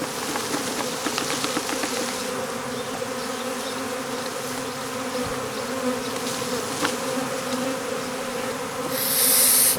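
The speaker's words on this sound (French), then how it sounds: "les abeilles se remettent là parce qu'il y a l'odeur de la reine" Dense, continuous buzzing of many honeybees swarming close by, a steady droning hum that swells slightly louder at the end.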